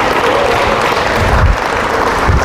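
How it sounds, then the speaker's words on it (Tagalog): Senior citizens at a church gathering give a burst of loud, close clapping, with many hands applauding at once in a dense, steady patter for a couple of seconds. "Ganyan po ang mga palakpak ng mga senior citizen."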